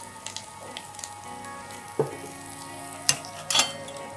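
Chicken cooks in a clay pot, giving a steady low frying sizzle throughout with a few sharp clinks and scrapes of stirring near the end.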